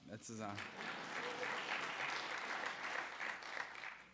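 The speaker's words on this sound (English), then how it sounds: "you can clap" Audience at a Republican Jewish Coalition presidential forum applauds a speaker, a steady wash of clapping filling the room for several seconds, with a brief bit of talk at the start.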